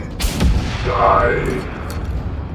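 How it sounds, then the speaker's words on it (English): Gunfire in the video game Generation Zero: a couple of sharp shots early on, followed by a rolling, booming rumble, with a voice murmuring faintly underneath. "I'm just doing some preemptive shooting"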